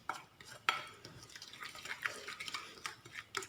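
Spoon stirring a marinade for barbecue chicken in a bowl, with soft scraping and clinks of utensil against the dish, irregular and close but quiet.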